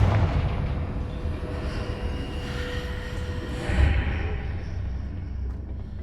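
A Confringo blasting spell cast in Hogwarts Legacy, a sustained rumbling explosive roar with a heavier boom near the four-second mark, loud and continuous with no talking.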